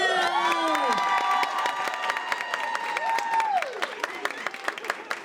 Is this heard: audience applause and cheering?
yes